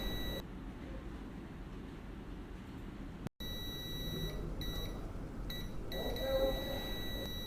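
A multimeter in continuity mode sounds its buzzer while probing an iPhone circuit board, a steady high electronic tone holding almost throughout with one brief cut, over faint background hiss.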